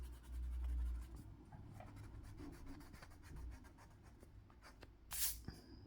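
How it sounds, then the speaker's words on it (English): An eraser rubs out a pencil drawing on paper, making close, quiet, continuous scrubbing and rasping strokes, with a brief bump at the start and a sharp rustle near the end. "let's just erase that"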